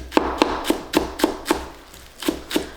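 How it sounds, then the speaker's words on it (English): A knife chops scallions finely on a cutting board: about nine crisp, close knocks in a steady, fairly even rhythm with short pauses, no voices. "next we're gonna chop the scallions"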